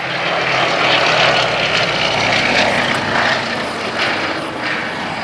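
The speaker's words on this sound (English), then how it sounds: "Polycarpov PO2, just simply a basic aeroplane." Polikarpov Po-2 biplane flying overhead above Bedfordshire, its propeller engine a loud, steady droning roar that swells and fades slightly as it passes, heard alone without talk.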